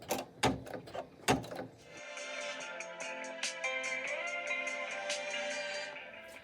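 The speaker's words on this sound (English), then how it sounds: "I'm going to push the green button to start embroidering. The first stitch will be the placement stitch." An embroidery machine sews a placement stitch, starting after a few clunks and then whirring with a rapid, even stitching rhythm and a mechanical hum that carries on steadily and up close.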